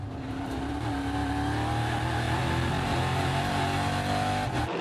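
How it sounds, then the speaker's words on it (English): An onboard V8 EuroNASCAR race car engine roars steadily at Brands Hatch, loud and close, holding a high sustained tone with slight pitch shifts as it runs through the lap, with no talking. "Fantastic noise from the V8 engine."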